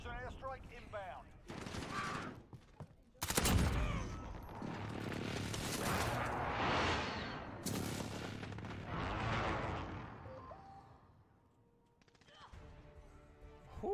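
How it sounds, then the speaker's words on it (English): Booming explosions from a friendly precision airstrike in Call of Duty, several heavy blasts rolling together over continuous battle noise, with voices talking during the barrage. "Be advised, friendly precision airstrike inbound"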